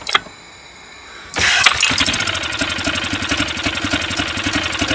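A Honda BF5 outboard motor converted to run on LPG cranks and catches after a short pause, then settles into a steady, loud, rapid-firing run close by.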